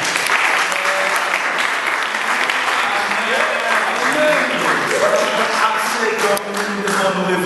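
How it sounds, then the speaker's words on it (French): A church congregation applauds continuously, dense clapping that stays loud and steady throughout, with some voices and cheers mixed into the roar. "Sous vos acclamations"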